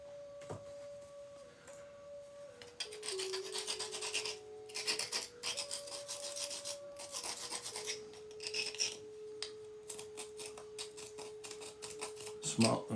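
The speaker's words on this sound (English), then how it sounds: "Polish that off a little bit." A handmade object being polished and rubbed by hand, a steady rasping friction that runs close and continuous for several seconds, over a faint electronic tone.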